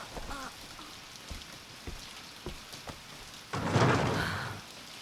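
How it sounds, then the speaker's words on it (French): Rain falls steadily on a surface, a continuous patter of drops with a few sharper close splashes and a brief louder gust of heavier rainfall near the end, with no talking. "Cette pluie est une bénédiction."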